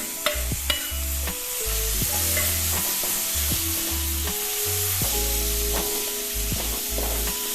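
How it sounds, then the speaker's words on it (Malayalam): Finely chopped tomato fries in egg masala in a pan with a loud, steady sizzle, as a spatula stirs and clinks against the metal, close up and without any speech. "നമുക്കതിൽ ഒരു വലിയൊരു തക്കാളി എടുത്ത് കൊടുക്കുന്നുണ്ട്"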